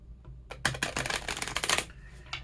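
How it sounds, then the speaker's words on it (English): Oracle cards being shuffled by hand, a brief close flurry of crisp papery riffling and flicking lasting about a second and a half, fairly quiet and heard alone without talking. "I'm just going to shuffle the cards a little bit"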